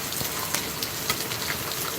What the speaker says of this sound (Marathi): त्याच्यानंतर हा भरपूर चालू झाला आहे पाऊस